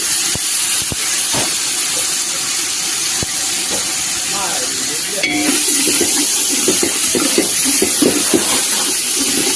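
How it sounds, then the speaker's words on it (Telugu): Ginger-garlic paste sizzles and hisses steadily in about two hundred grams of hot oil as it is stirred, a loud, continuous frying crackle with scattered spoon clatters and brief bits of background voices. "రెండు వందల గ్రాములు నూనె వేసుకున్నానండి అల్లం వెల్లుల్లి పేస్ట్ వేస్తున్నానండి బాగా తిప్పుకుంటున్నాను"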